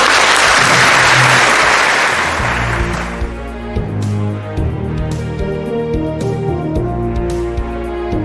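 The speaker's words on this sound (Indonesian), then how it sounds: "Tepuk tangan untuk Anyo Indonesia." Audience applause at an indoor event, loud and dense for about three seconds before tapering off into music.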